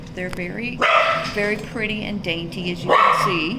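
A dog barks sharply a few times in the background while someone talks continuously over it, the barks loud and close between her phrases.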